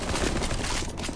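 Rapid gunfire in the zombie escape mode of CSGO, a dense, continuous burst of shots filling the whole moment at close range with no break.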